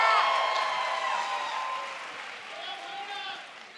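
An audience at a live show applauds its MCs, broad clapping and cheering that swells at the start and slowly thins, with some voices mixed into the crowd noise.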